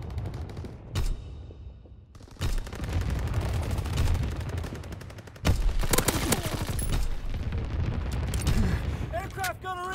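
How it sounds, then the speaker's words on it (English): Bursts of anti-aircraft gunfire in the Call of Duty WWII multiplayer Domination mode, repeated loud blasts and rattling fusillades layered over a dense battle din, with voices talking underneath. "Anti-aircraft bursts commenced, clearing the skies"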